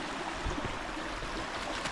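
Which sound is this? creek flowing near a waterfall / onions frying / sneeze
creek flowing near a waterfall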